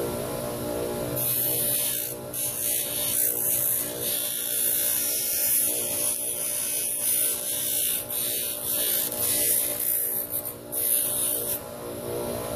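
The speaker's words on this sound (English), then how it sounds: "You've got to be really careful when you're working with a grinder" Angle grinder taking the edge off a part during conversion of a Miller 211 Autoset's 10-foot welding torch to a Bernard Q Series; a loud, steady, close whining grind runs almost the whole time with small dips, no talk.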